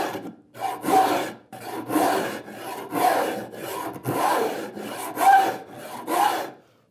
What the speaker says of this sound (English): I'm going quite lightly to start with till I get my saw rasp oriented to optimize the cut.